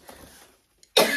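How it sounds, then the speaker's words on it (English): A single sharp, dry cough bursts out loudly and close after a quiet stretch of faint room noise, with no talk. "Just a dry cough and some underlying medical illnesses that we'll talk about later."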